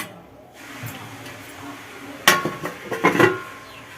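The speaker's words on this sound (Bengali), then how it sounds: "চলুন বন্ধুরা আমি সার্ভ করে নিচ্ছি" Soybean do pyaza being served into dishes, a quiet stretch followed by a cluster of close clinks and scrapes of a utensil against pots and plates.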